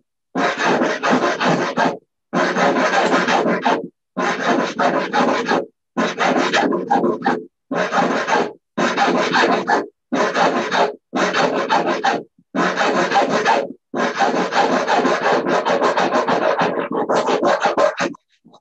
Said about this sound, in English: I'm going to take my zero cut file and start filing out.